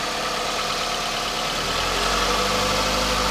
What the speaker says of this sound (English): Getting itself warmed up, another cold start. Runs nice and smooth